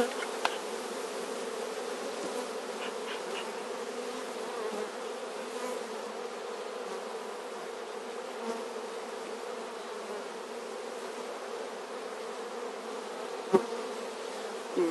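Honeybees buzz steadily around an open hive being split into two colonies, a dense continuous drone close by with no talking.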